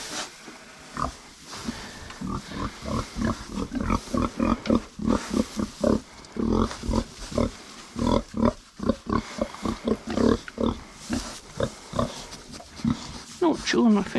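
Pigs on a ranch at feeding time grunt and oink in a steady stream of short, close bursts, while a person talks over them throughout.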